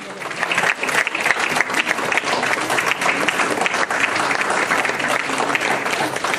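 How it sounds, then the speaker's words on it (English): Dense, sustained applause from a crowd at a seniors appreciation gala, with many hands clapping steadily at an even loudness from start to finish. "she deserves a round of applause"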